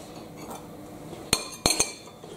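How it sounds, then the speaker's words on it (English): Short grain rice spooned into a dish for rice pudding, heard as quiet background rustle followed by three sharp metallic clinks of a spoon against the dish. "We just simply put 3 tablespoons of short grain rice into the dish."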